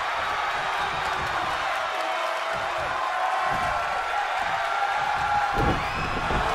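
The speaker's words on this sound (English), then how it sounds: "What a raucous crowd here tonight." A raucous crowd at a televised wrestling event roars steadily throughout, with cheers and whoops rising at moments, loud and dense like a packed arena.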